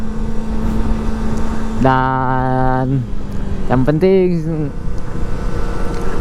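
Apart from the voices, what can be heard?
Kawasaki ZX25R motorcycle riding near Mount Fuji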